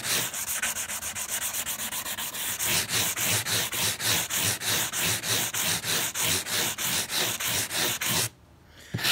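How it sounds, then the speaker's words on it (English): Sandpaper rubbed by hand over clamped wood in steady back-and-forth strokes, a loud close rasping rhythm that quickens after a few seconds and stops briefly near the end. "what I do with this is I run my sandpaper over the top"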